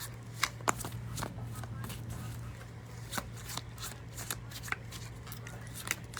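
Tarot cards are shuffled in a string of soft, crisp riffling taps and flicks at an uneven rhythm, close up, over a low steady hum.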